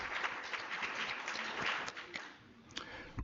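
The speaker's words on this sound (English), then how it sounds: "Let's give her another round of applause," Applause from a seminar audience for a speaker at a research seminar, a moderately faint, uneven patter of clapping with a few sharper individual claps standing out toward the end.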